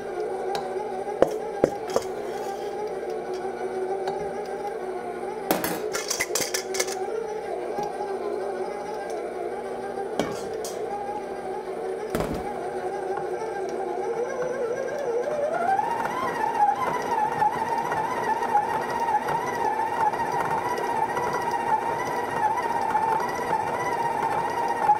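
Electric stand mixer beating eggnog kringla cookie dough, a steady motor whir that rises in pitch partway through, with a few brief knocks against the bowl.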